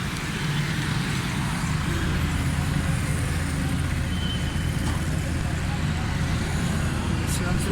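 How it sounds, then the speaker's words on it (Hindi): Suzuki Mehran petrol engine idling after a carburetor service and tappet adjustment, a steady continuous hum throughout with a voice talking over it. "माशाल्लाह स्टार्ट है गाड़ी, बिल्कुल स्मूथ जबरदस्त साउंड है।"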